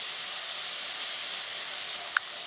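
Spices and ground tomato paste sizzling in a pan, an even, continuous hiss heard close, with one brief sharp tick near the end.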